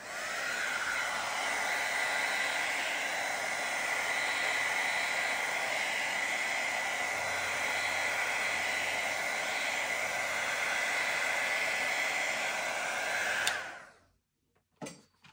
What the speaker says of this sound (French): Je vais sécher un petit peu avec le heat gun.